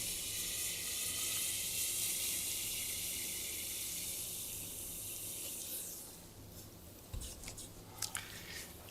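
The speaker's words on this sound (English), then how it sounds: "We pour liquid nitrogen on it to take it below its critical temperature." Liquid nitrogen poured onto a superconductor resting in foam insulation, a steady hissing, bubbling pour that fades after several seconds into a few faint clicks and taps, with no voices.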